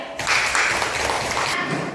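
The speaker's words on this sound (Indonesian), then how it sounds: "Nah, kita tepuk tangan lagi untuk kelompok 3." Third-grade primary school pupils clap for a classmates' group in a classroom, a dense, steady patter of many small hands filling the whole short burst, fairly close and loud.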